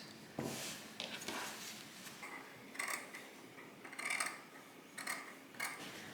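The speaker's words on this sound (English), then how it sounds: "I'm cutting on the seam allowance line." Scissors cutting silk jacket fabric along a seam allowance line, a series of soft, close snipping and rustling sounds repeating unevenly, quiet and without speech.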